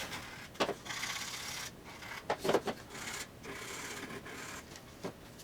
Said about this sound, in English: take my sanding brick and kind of round off the edges of this top edge